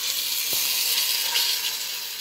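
Steady, broadband sizzling of pot roast beef searing in hot oil, continuous and fairly close, with a faint stir or clink partway through.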